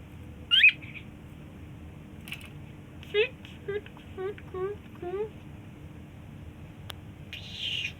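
Pet birds kept in pairs at home give a series of short, bright chirps and calls, with a sharper squawk near the start and a few spaced calls later, heard over a low background hum.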